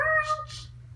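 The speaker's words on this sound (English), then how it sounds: "You stole the cat!" A cat meows once, a short close tonal cry over a quiet background, set among cartoon-style voice scenes.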